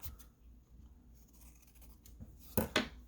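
Scissors trim the edge of an artist trading card made from a watercolor master board, quiet handling at first, then two sharp, close snips near the end.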